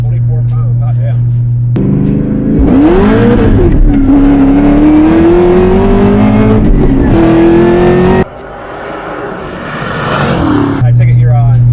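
An 800+ hp turbocharged Mustang Cobra on 24 psi boost, E85 fuel and a returnless fuel system revs loud and close, its engine note climbing and holding in sustained pulls with brief dips, while people talk nearby.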